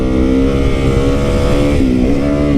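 A lightweight supermoto motorcycle engine revving loudly up close, a buzzy single-cylinder drone whose pitch holds, dips briefly near the end and then climbs again.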